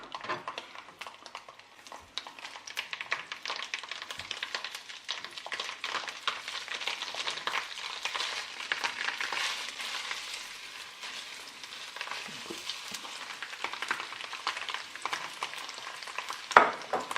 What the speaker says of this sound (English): So I'm going to put the sausages in, the oil's heated up.